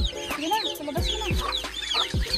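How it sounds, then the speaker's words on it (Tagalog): A flock of five large farm geese let out of their pen, giving repeated honking and clucking calls close by, several overlapping calls over a few seconds with no talk. "Pakawalan na namin yung gansa. May limang gansa dito."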